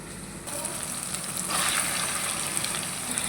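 Water poured from a half tumbler onto spiced liver in a cooking pot, a steady close gushing splash that swells midway and then settles into a continuous sizzling pour, with no talking.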